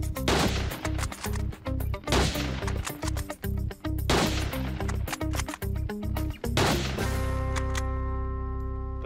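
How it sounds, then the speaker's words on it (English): Rapid fire from a gun in a trench-war shooting game, a fast string of loud, sharp shots in bursts with brief gaps, ending in a ringing tonal fade. "let's see if we can rapid fire this gun"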